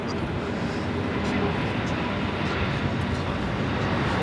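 A heavy airliner bound for Brazil rolling down runway 25 right at Los Angeles International Airport, a steady broad engine roar from a distance with a voice speaking over it.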